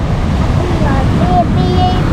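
Ocean waves break on a Bermuda shore in a steady, continuous roar, mixed with gusty wind buffeting the microphone.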